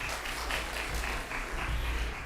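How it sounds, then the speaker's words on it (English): Audience applause at a national tax conference, a steady wash of many hands clapping at moderate distance, sustained and even throughout with no voices standing out. "Give them a big round of applause."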